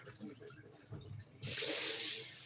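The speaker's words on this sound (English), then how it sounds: "Add more water" Water pours suddenly and steadily into a bowl holding nkwobo African salad ingredients for washing, a loud broadband rush following soft handling noises.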